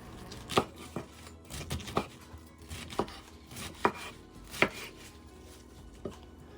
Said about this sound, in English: Then you may use a food processor or chop by a knife.